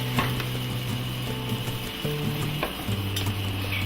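Beaten eggs for a frittata sizzle and crackle steadily in a hot frying pan, a close, continuous frying hiss with faint scraping, no voices.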